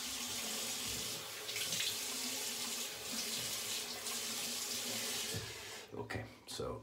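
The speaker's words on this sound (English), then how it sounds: "rinsed off in warmish water and then in cold water" Tap water runs steadily from a faucet into a sink as a man rinses his face after a one-handed straight razor shave, the splashing broken by brief pauses and hand movements near the end, with no talk.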